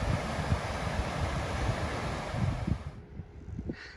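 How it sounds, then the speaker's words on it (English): Ocean surf at Smyrna Dunes beach near Ponce Inlet, Florida, heard as a steady wash of waves under heavy wind buffeting the microphone, which drops away abruptly near the end. "We will take a little bit of a look at the ocean"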